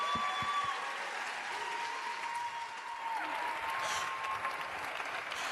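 Sustained audience applause at a World Food Day closing ceremony, a steady wash of clapping held at an even level throughout, with a faint tone running beneath it.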